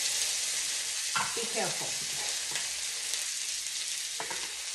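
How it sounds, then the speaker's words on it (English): Orange chicken sizzling in hot oil in a pan, a steady broadband hiss with a few brief louder crackles and stir scrapes, while a person speaks briefly over it. "here's the sizzle"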